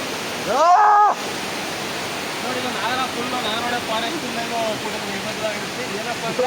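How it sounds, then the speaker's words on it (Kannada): Iruppu Falls roars as a steady, dense wash of falling water, close and continuous, with a brief voice and faint talk heard over it. "ಇದು ಫಾಲ್ಸ್ ನೀರು ಅಲ್ಲಿಂದ ಬರೋದು"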